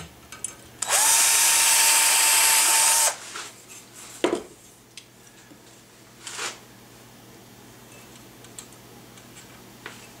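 A power drill bores undersized pilot holes for a sheet metal buttplate on a gunstock, one loud sustained whine of about two seconds, followed by scattered clunks and taps of tools on the bench.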